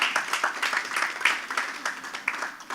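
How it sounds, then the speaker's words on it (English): Polite audience clapping at a disaster risk financing policy forum, fairly faint and brief, with individual claps audible in a sparse, uneven patter from a modest crowd. "That deserves a round of applause."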